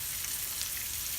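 A thick block of Greek feta cheese frying in a pan gives a steady, dense sizzle with fine crackling throughout, close and continuous with no voices.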